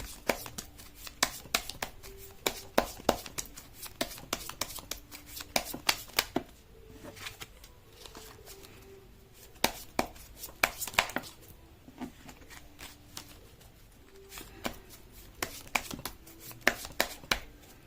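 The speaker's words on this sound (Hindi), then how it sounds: "मैं कर लेती हूँ कार्ड की शफलिंग।" Tarot cards being shuffled by hand, a quiet close run of rapid riffling bursts and slaps repeating in uneven clusters, with brief pauses between them.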